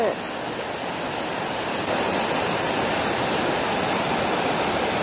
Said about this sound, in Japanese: 滝もある。